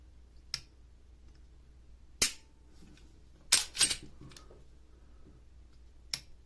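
Mossberg MC1sc pistol trigger dry-fired, giving sharp, isolated clicks spaced irregularly, one louder snap followed by a quick double click and a faint final tick, close and clear over a quiet background.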